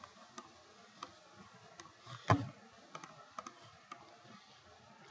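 Mouse clicks come from a computer running Autodesk Inventor, sparse and quiet single clicks spaced about a second apart, with one sharper louder click midway through.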